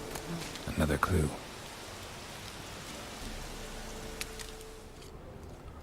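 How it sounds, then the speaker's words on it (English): Steady rain falls in The Witcher 3, a soft continuous hiss after a brief burst of louder activity near the start, fairly quiet throughout with no talk. "I guess objectively speaking, it does look like rain because you're looking at the rain as it's falling."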